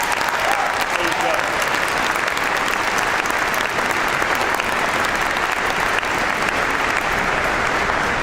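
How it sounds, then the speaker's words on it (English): An inaugural address audience applauds loudly and continuously, with steady dense clapping from a large crowd that never lets up. "Give yourselves a round of applause."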